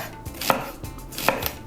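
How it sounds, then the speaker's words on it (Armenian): A knife chops a pear on a board for a celery salad with two distinct, fairly close strikes about three-quarters of a second apart, against quiet background noise. "Կտրատում ենք նաեւ տանձը։"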